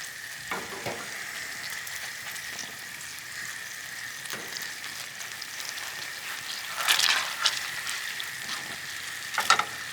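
Butter sizzles in hot oil in a pan, a quiet, steady crackle close by, broken by a few louder pops and spatters toward the end.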